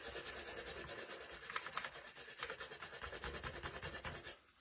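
Scrubbing adhesive residue off a Dollar Tree candle holder makes a steady, rhythmic rasping rub, close and fairly quiet, with repeated back-and-forth strokes and no voices.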